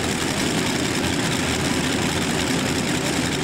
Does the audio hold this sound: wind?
no